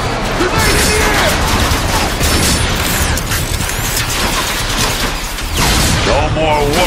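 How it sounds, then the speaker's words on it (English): A grenade explosion and sustained gunfire fill a firefight in Transformers: Fall of Cybertron, a loud, dense barrage of shots and booms running continuously with voices shouting over it. "Grenade in the air!"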